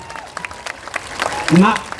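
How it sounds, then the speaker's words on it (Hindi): An audience at a Bihar political rally gives thin, scattered clapping, sparse and uneven, with a voice speaking near the end. "तो एक बार जोर से ताली बजाइए, तो बजाइए जोर से ताली।"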